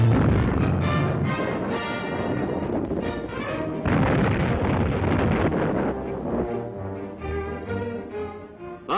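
Anti-aircraft guns fire in a dense, continuous barrage of heavy booms along a US coast defense line during the Second World War, loud and sustained, with no talk.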